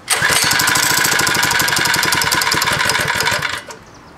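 A 3HP four-stroke motorized bike engine sputters into a fast, loud run of firing pulses for about three and a half seconds, then cuts out and goes quiet.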